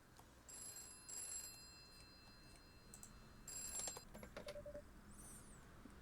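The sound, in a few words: telephone ringing in a video game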